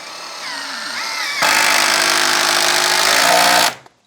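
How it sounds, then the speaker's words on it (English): Power driver sinking a 6-inch GRK structural screw into a stair stringer, a whirring motor that jumps to a loud, steady high-speed whine for about two seconds, then cuts off abruptly, close up with no talk. "So I'm gonna run a screw right here,"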